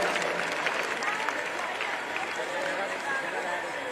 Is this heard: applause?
yes